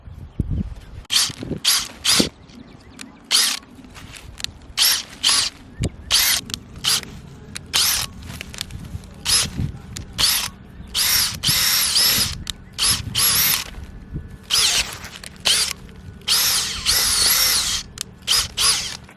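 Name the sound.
power drill with special drill bit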